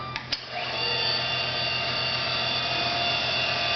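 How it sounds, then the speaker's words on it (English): A K.O. Lee tool and cutter grinder is switched on after a couple of clicks, and its spindle spins up into a steady high-pitched whine that holds evenly at close range. "We're going to pan back and turn the machine on."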